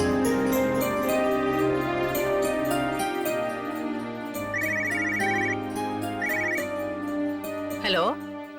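A telephone rings repeatedly while a call is being placed in a television serial scene, an electronic trill in regular bursts. Background music plays throughout, and a rising tone sweeps up near the end.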